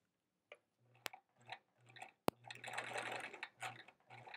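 A sewing machine stitches a quilt block in short, quiet bursts of low motor hum and needle clatter, with a couple of sharp clicks and a longer stretch of stitching near the middle.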